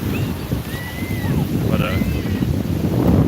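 Steady wind and rolling surf at a hot, bright beach, a continuous close roar of waves and gusts buffeting the microphone, with faint scattered tones above it.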